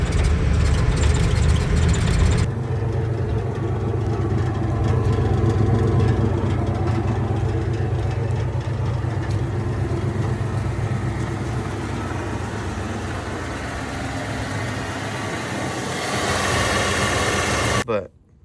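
A Ford OBS two-wheel-drive pickup with a ZF5 manual gearbox idles with a steady, deep, loud exhaust rumble that continues until it cuts off near the end.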